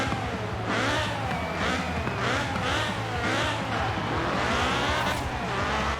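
A Ford Escort Cosworth racing in Forza Horizon 4 roars steadily with a loud engine and exhaust note, rising and falling as it revs through several gear changes over about six seconds, with no talking.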